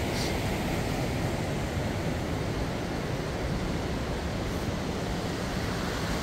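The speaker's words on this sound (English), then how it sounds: "this is called Sertish Waterfall" A constant, dense roar of rushing water from a waterfall near Davos, Switzerland fills everything, loud and unbroken, like a heavy cascade nearby with no other sounds standing out.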